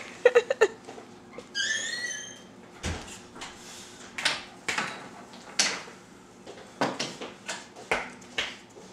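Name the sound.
child imitating a squeaking door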